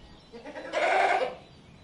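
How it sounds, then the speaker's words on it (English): One goat bleat, a wavering nasal cry about half a second long, clear and fairly close with nothing else around it. "It is a goat."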